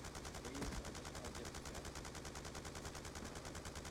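Dense, sustained automatic gunfire from a first-person shooter video game in Gun Game mode, a steady rapid stream of shots filling the whole stretch at an even loud level.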